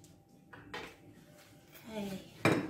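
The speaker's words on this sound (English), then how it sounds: "Soup ladle's good for getting all the juices." A soup ladle clinks and scrapes against a pot while scooping juices from Thai chicken curry, with several metallic knocks and a sharper clatter near the end, close by and fairly quiet.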